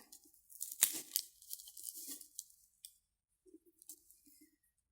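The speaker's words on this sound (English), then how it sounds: "So let's unwrap the handles" Handles of an Alyx bag being unwrapped, a close burst of crinkling and tearing wrapping followed by softer scattered rustles, quiet and with no voices.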